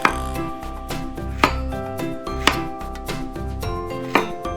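A knife chops food into thick finger-wide rings on a cutting board, four sharp distinct strikes at an uneven rhythm, close and clear with no talking.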